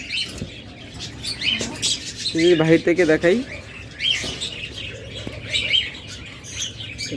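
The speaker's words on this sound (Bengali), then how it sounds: "এগুলো কিন্তু lutino red eye piece page জোড়া মাস্টার পেয়ার পাখি" Lutino red-eye peach-faced lovebird pairs let out a short flurry of sharp chirps amid softer chatter from other caged birds, while someone speaks over them.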